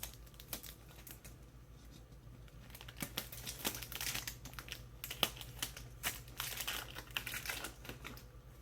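Tape bent and pressed into the corners of a screen-printing frame, a quiet run of close crinkling and tapping with sharp little clicks and rustles coming irregularly.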